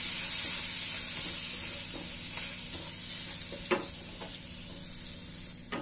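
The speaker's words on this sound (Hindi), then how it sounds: "अब हम इनको भून लेंगे। थोड़ी सी हमने हरी मिर्च भी डाली है, इनको भी हम भून लेंगे।" Vermicelli and green chillies roast in a hot pan with a steady, close sizzle, broken by a few faint scrapes of stirring.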